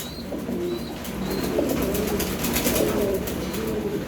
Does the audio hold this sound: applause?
no